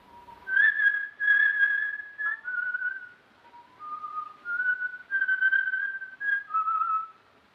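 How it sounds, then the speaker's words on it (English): Someone whistles the sextet from Lucia, a clear, close melody in sustained phrases with short breaths between them. It sounds alone, with no talking. "he whistled the sextet from Lucia"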